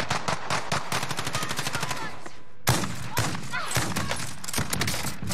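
Rapid bursts of video game gunfire from a shotgun, sharp repeated blasts in quick succession, a brief pause near the middle, then more shots resuming amid dense, loud clatter.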